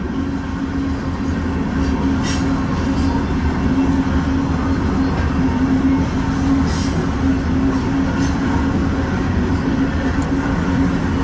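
Freight cars of Missouri Pacific and Chicago Northwestern rolling past in freezing weather, a loud, steady rumble of wheels on rails with rhythmic clanks and a low tonal hum.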